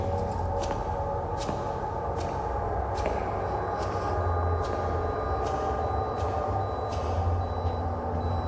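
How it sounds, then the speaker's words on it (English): Sharp electronic beeps from an EMF meter repeat at fairly regular intervals over a steady low hum, with no talking, during a ghost hunt at Waitomo Caves Hotel. "It's just making quite a loud beeping noise right now."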